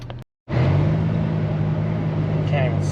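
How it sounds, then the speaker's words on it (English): A Dodge Caravan engine runs through a cut-off exhaust fitted with a glass pack, a loud, steady low rumble that starts abruptly after a brief gap and holds evenly, close and dominant. "It actually sounds pretty cool with the exhaust that we had to cut off, and I think we put a glass pack down there"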